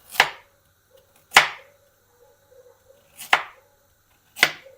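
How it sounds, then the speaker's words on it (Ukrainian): Knife chopping carrots into pieces on a board, four sharp, separate cuts spaced unevenly, close and crisp, with faint kitchen clatter between them. "Моркву також буду нарізати ось такими шматочками."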